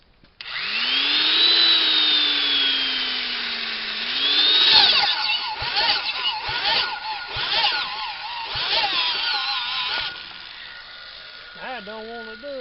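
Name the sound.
electric drill spinning to start a small engine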